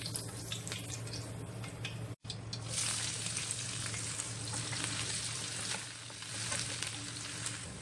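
Sliced large onion dropped into hot oil with curry leaves for a crab fry breaks into a sudden loud sizzle after a brief silence, then keeps up a steady, crackling hiss, close and alone.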